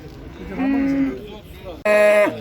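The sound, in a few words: cows and calves at livestock market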